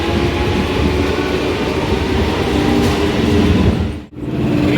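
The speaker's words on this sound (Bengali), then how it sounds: "তো আমাদের ট্রেন চলে এসছে" A local train rolls into a station with a loud, steady rumble and rattle of carriages close by, sustained throughout, briefly dipping near the end.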